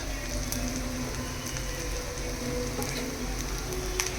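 Ragi roti with fenugreek leaves frying in a generous amount of oil, giving a steady, even crackling hiss that runs continuously at moderate level with no talking.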